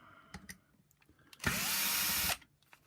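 A power screwdriver backing screws out of the power nozzle of a corded Shark DuoClean HV390UKT vacuum cleaner: a few light clicks, then one close, loud whirring burst lasting just under a second, followed by quiet handling.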